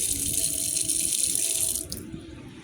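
Tap water running into a sink in a newly finished gray house, a steady hissing stream that cuts off near the end, leaving a quieter room rumble.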